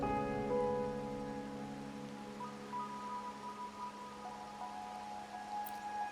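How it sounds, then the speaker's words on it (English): Steady rain falls in a video game, set in Raguna at night, a soft continuous wash of drops with faint tonal music lines held underneath and no talking. "My granddaughter told me Raguna's rain is a bad omen."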